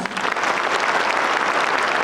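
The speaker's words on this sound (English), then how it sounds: "Everyone, please give this talented young lady and young man a huge round of applause." Church audience applauding a young female and male performer pair, a dense, steady wash of many hands clapping that stays loud and even throughout.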